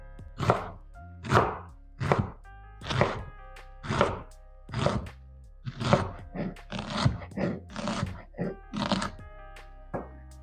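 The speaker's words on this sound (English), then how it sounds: "And then with the onions, I'm just going to slice them up." A knife crunches through onions on a cutting board in a steady series of crisp slicing strokes, each one close and distinct.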